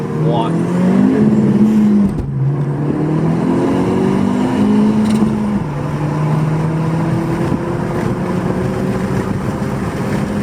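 A 2018 Honda Civic Si with the muffler deleted pulls hard in first gear, its exhaust note climbing in pitch with a brief dip, loud and close under a droning cabin rumble.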